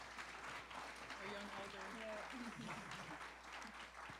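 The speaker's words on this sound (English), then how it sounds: "So I say just a big round of applause once again for the amazing work" Audience applause at a peace and unity youth summit, a steady soft roll of clapping heard fairly faint with voices murmuring through it.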